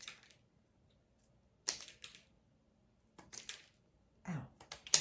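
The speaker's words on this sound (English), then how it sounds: "It is a hair big on the outer edges, so just gonna do a little trimming" Scissors trim the outer edges of a deco mesh flower, giving a few crisp, close snips spaced by pauses, then quicker snips at the end.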